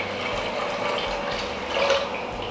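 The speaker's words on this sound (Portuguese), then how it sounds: "Coloquei até agora 500 ml de água." Water pouring steadily into a cooking pot while preparing polenta, a continuous close splashing fill that swells slightly near the end, with no talking.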